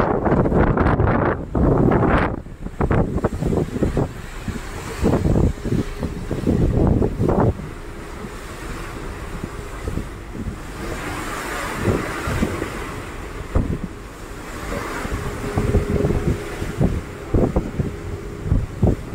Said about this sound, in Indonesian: Dari tadi anginnya kenceng banget ya.